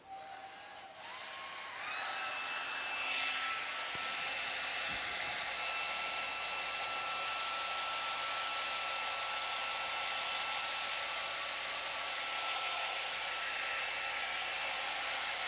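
A hair dryer blows on a wet dot journal page. After a brief start it roars steadily with a loud, close, even hiss that holds unchanged to the end, with no speech.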